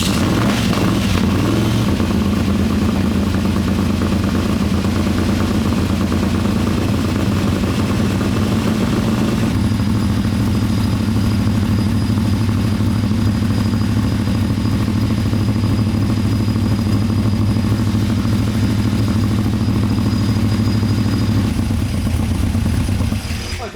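An engine on a dyno, already running and held at a steady loud idle with a deep rumbling hum and mechanical clatter, shifting tone slightly midway; voices talk faintly underneath.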